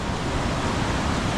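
Stream rapids rush toward the waterfall at Janet's Foss in Yorkshire, a loud, steady broadband roar of tumbling water close by, with no voices over it.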